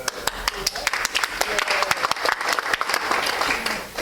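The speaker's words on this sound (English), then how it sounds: "I want to applaud all of you who've helped" Applause at a Lions Club meeting from members clapping for those who helped, a room's worth of hands with distinct sharp claps standing out, steady for a few seconds with faint voices underneath.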